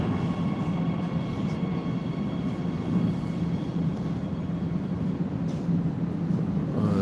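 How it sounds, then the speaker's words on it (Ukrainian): A loud, steady rumble of a metro train in motion, with continuous rolling and rattling noise and a low droning hum of its motor throughout. "Що таке шумне метро? Ну бо двигун працює."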